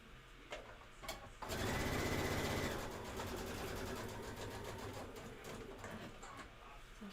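A sewing machine stitches a quilt border, its motor whirring in a steady run of close, rapid stitching after a few short starts, then easing to a slower pace.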